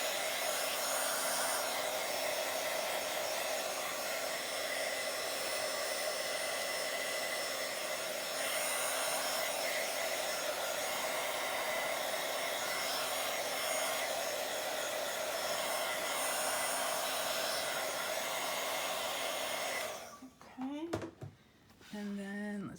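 Small hair dryer blowing steadily on distress ink on a journal page, a continuous close whirr for about twenty seconds that cuts off near the end, followed by brief handling noises.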